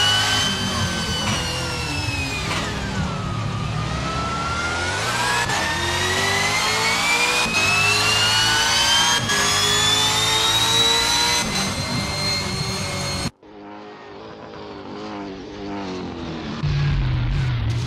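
V8 Ford Falcon FGX supercar engine in the Assetto Corsa racing game, a loud continuous roar rising and falling through gear changes, with sweeping pitch shifts, a brief cut near the end, then a quieter droning engine.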